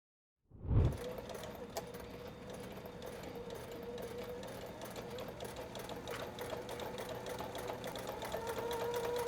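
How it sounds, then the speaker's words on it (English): Sewing machine top stitching a folded seam allowance on a beach tote bag, starting after a brief silence with a clunk, then a steady close motor whir and needle hum that keeps running and grows slightly louder. "Then I folded the seam allowance towards the bottom panel and top stitched."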